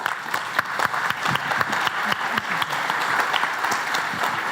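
An audience at the JPrime 2023 Java developer conference in Plovdiv gives dense, sustained applause for the organizer, with many close clapping hands and no talking.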